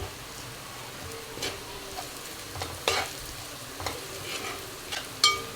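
Fried onions being stirred with garlic chilli powder in a pan for an egg curry, a soft continuous sizzle broken by repeated spatula scrapes and taps against the metal, close and fairly quiet with no talking.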